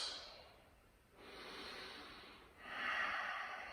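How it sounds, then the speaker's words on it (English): Slow breathing during a live-streamed yoga session: a long, airy exhale, a pause, then a breathy inhale and another exhale, close and soft, with no talking. "2 more breaths"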